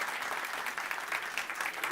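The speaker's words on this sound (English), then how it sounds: "Everybody, give yourself a round of applause." A live show audience applauding themselves, a short burst of continuous, dense crowd clapping heard at a steady level with no pauses.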